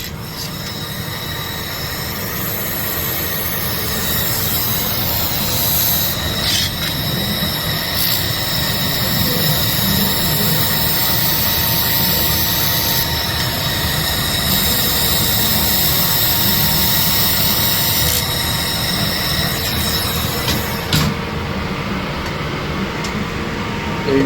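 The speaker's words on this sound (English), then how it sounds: "I'm going to weld around the perimeter of this part" A light welder runs a steady, continuous bead around the perimeter of a metal part, giving a constant crackling hiss that holds for about twenty seconds before stopping abruptly near the end.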